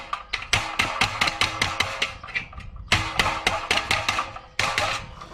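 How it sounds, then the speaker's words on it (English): A ball peen hammer strikes the sheet metal of a patio heater in rapid, close, ringing taps. They come in three quick bursts separated by brief pauses. "just lay the ball peen hammer there and just tap the metal back, tap the metal out"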